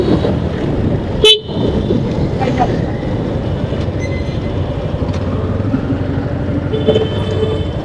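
Road traffic in Cox's Bazar, Bangladesh, with steady vehicle rumble and a few short car horn toots, including one sharp loud blast early on, under dense continuous noise.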